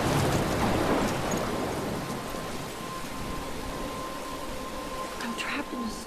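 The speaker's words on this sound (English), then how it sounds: "I'm trapped in a storm?" A storm in the Life is Strange video game: steady rain hiss with rumbling thunder, a swell of noise early on, and a person talking over it.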